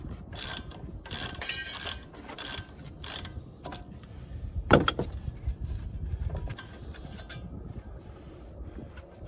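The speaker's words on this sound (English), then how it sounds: "Use 18mm and remove caliper bracket bolts." A ratchet clicks in quick bursts while loosening the front brake caliper bracket bolts on a 2014-2018 Chevrolet Silverado 1500, with close metallic ratcheting, a few sharp clanks and pauses between turns.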